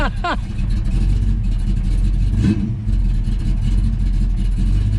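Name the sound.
Ford Foxbody Mustang engine running and revving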